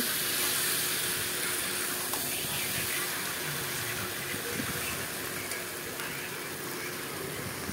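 Broth poured into a pan of small-fish chorchori cooking with onion, tomato, potato and flat beans, giving a steady, fairly loud hiss and wash of liquid that runs unbroken throughout.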